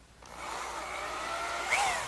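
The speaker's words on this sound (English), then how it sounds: "Now, I'll pre-drill some holes in the end" Power drill pre-drilling holes in the end of a wooden column for a candle stand: one sustained whirring bore from start to finish, close and moderately loud, with a brief squeal near the end.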